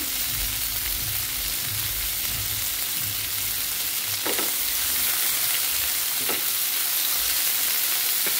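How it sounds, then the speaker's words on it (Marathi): Spinach and pea bhaji sautéing in a pan, a steady close sizzle with a few soft scrapes of a spoon stirring through the greens, no voices. "थोडंसं परतत राहायचं आहे, चांगले व्यवस्थित मऊ करून घ्यायचं आहे सगळं हे"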